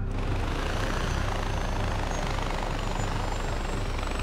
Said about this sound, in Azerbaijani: Vertolyotdan minirik. Vertolyot. Kiçik vertolyot da,